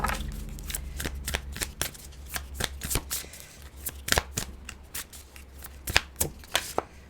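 Tarot cards shuffled and pulled from the deck, a close, quiet series of crisp riffles and sharp slaps of card on card at an uneven rhythm.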